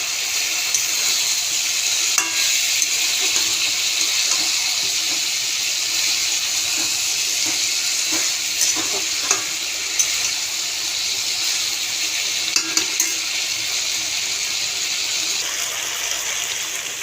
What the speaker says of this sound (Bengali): এরপর ভেজে রাখা আলু ফুলকপি দিয়ে আর একটু কষিয়ে নিচ্ছি।